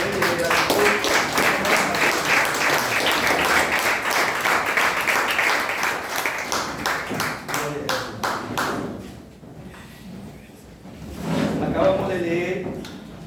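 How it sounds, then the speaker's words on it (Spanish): Church congregation giving a loud burst of applause that fades out, then a second shorter round of clapping rises near the end, with voices talking over it. "Le damos un fuerte aplauso"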